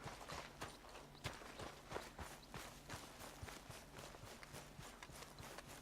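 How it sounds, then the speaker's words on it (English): Horses in the Red Dead Redemption video game clip-clop along at an even walking rhythm, the hooves clear and close against a quiet background. "there's some horses"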